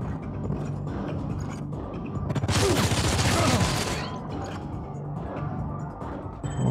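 Rapid gunfire rattles in a burst lasting over a second in the turn-based game Showgunners, a dense loud volley rising above background game sound and a low voice.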